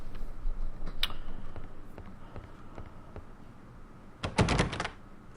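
A locked door being tried in the Agatha Christie: Evil Under the Sun game: soft ticks and thumps, then a brief cluster of sharp rattling knocks near the end, fairly close and alone.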